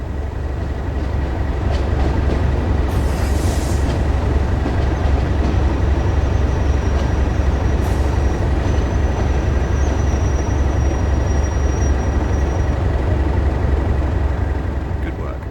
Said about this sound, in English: Make use of the brakes and throttle controls to manage the train and prevent overspeeding.